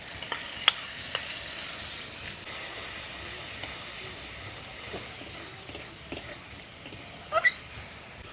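Masala frying with sour yogurt in a pan for a prawn curry, a faint steady sizzle and hiss with scattered light clicks and scrapes of stirring, quiet and close with no talk.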